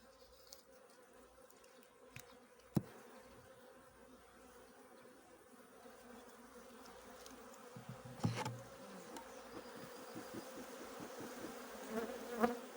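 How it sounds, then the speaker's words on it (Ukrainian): Honeybees buzz steadily at an open hive during an April inspection, a low, continuous drone, with occasional soft clicks and a few louder knocks near the end. "Зазвичай бджоли у нас спокійно реагують на огляди"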